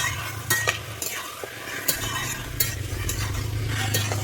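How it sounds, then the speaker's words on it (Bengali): A spatula scrapes and stirs ash gourd with spices in a pan for a Bengali vegetarian chalkumro ghonto, with soft sizzling underneath and repeated sharp clinks of metal against the pan. "আমি মশলার সঙ্গে ভালোভাবে নেড়ে ফেড়ে নেব"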